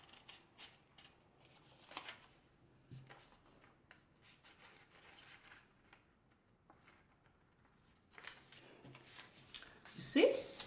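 Scissors snip through a paper corset pattern in a quiet room, with a series of short crisp cuts and rustles, some sharper paper handling near the end.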